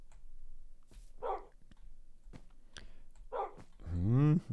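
Dogs in Minecraft give short scattered barks and yips, with quiet gaps between them and a louder whimpering yelp at the end.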